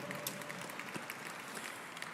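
Applause from an audience at an awards dinner, a steady wash of clapping throughout, moderately loud and even with no voices over it.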